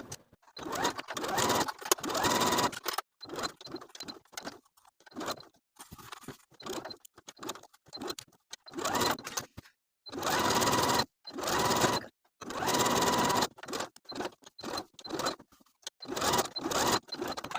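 Sewing machine stitching the front fly seam of shorts in repeated bursts, loud rapid needle chatter starting and stopping with short silent pauses in between and a few longer continuous runs, close by.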